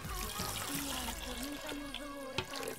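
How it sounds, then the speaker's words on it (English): Water poured over pork in a pot with bay leaves, garlic and half an onion for carnitas, a steady soft trickling pour running throughout at low level, ending with a brief knock. "cover it with water."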